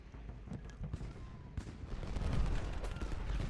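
Musket volleys and artillery fire from the Civil War strategy game Ultimate General Gettysburg crackle in sharp bursts, scattered shots at first and then a denser, louder barrage of overlapping gunfire.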